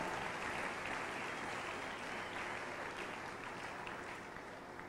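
A church congregation applauding together, a steady broad wash of clapping that holds evenly from start to finish with no speech over it.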